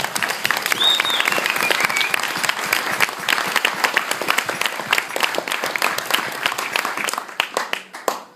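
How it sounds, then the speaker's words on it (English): Wedding guests at a reception give a big round of applause, dense overlapping claps filling the room for several seconds before thinning into a few scattered claps at the end. "please join me in a big round of applause"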